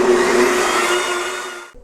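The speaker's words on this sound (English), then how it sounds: "So I put that in the blender, and then I'm going to put her on high for about 40 seconds." A countertop blender runs on high speed while blending kava, giving a loud, steady whirring roar that fades slightly before cutting off abruptly near the end.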